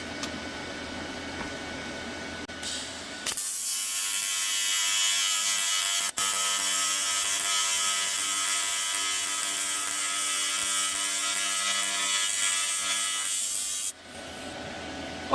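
An AC TIG welder buzzes steadily for about ten seconds while welding cast aluminum, a close, even electric hum that starts and stops abruptly with quieter room sound before and after.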